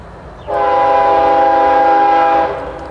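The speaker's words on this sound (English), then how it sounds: "The midget train is arriving." An arriving train sounds its horn in one loud, close, sustained chord-like blast lasting about two seconds over a low background rumble.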